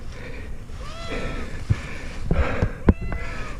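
A rescued cat answers a coaxing man with soft, drawn-out meows rising and falling over about four seconds, heard against outdoor background noise with a few knocks toward the end.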